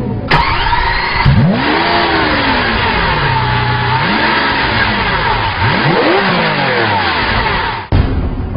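A 2012 Lamborghini Aventador's mid-mounted 48-valve V12 revs hard, loud and close, swelling and falling through several sweeping rises in pitch, with a sharp blip near the start and a cutoff near the end.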